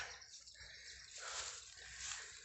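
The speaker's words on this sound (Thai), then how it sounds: "น้ำไหลครับ" Water trickles and flows steadily in a forest stream, a soft hissing, splashing flow that swells slightly at moments, heard close with no voices.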